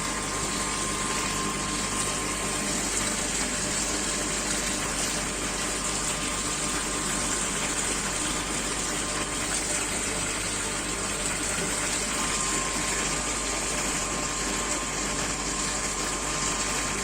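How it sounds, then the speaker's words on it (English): Steady jet of water pouring from a small circular orifice into a jar, a continuous close gushing and splashing that holds even throughout with no talk. "this jar to get filled with the jet of water"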